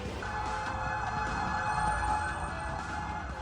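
Fire truck sirens wail steadily through dense surrounding noise as the trucks arrive at a large residential fire in Intramuros.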